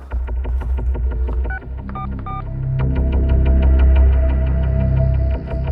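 A phone is dialed, with a series of short keypad tones beeping in quick succession over a loud, low engine-like hum, followed by a longer steady tone.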